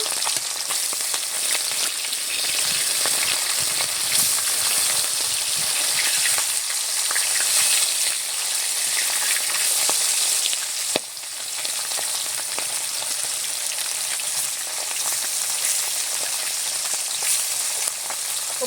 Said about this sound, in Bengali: এই তেলেই মাছগুলো সব ভাজা হয়ে যাবে